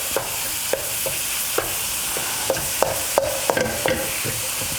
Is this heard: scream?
no